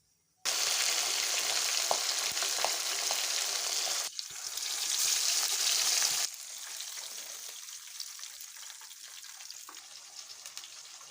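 Fish fries in oil over a low flame, giving a loud, continuous close sizzle that surges after a brief silence, shifts in tone midway, then settles to a softer, steady crackle.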